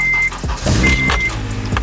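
An Acura TSX / Honda Accord engine starting after a clutch bracket replacement, heard up close as a continuous mechanical whine and rumble that catches and settles, with no talking.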